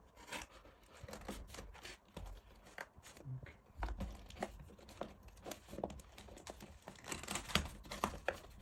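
Crinkling, tearing packaging tape sounds with rustling and scattered handling noises, close by and fairly quiet, no talking.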